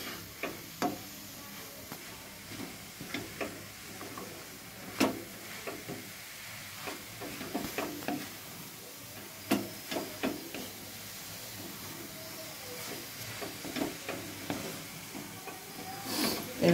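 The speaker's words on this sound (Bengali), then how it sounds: "জোরে করে দিচ্ছি, নাড়তে থাকি।" A spoon stirs jaggery as it melts in a pan on the stove for grated amla pickle, giving faint scrapes and irregular soft clicks over a quiet, low hiss.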